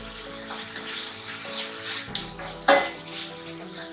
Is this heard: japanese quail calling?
no